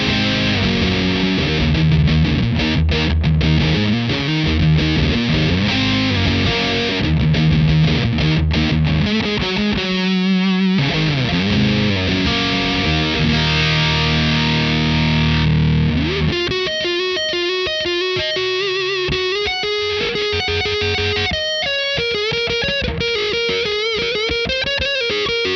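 An electric guitar played through an Anasounds modular fuzz pedal on its Civil War setting with MOSFET clipping and added mid-range, loud thick fuzzy chords giving way to sustained single-note lines, played alone.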